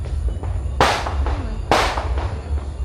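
Two sharp fireworks bursts crack close by, about a second apart, each trailing off in crackling decay over a low background hum.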